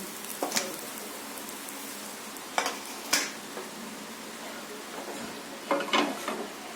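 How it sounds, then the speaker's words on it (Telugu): Fish frying in hot oil in a pan, with a steady low hiss broken by occasional sharp pops and crackles at moderate loudness. "మిగతా వాటిని కూడా అదే విధంగా ఫ్రై చేసుకుందాము"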